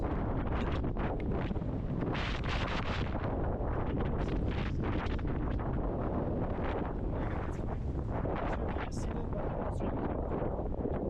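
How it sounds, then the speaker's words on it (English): Strong wind roars during a sandstorm on Gerani Beach in Greece, a continuous loud buffeting rush battering the microphone for the whole stretch, with gusty surges and rattling bursts and no pause. "the wind is blowing like crazy"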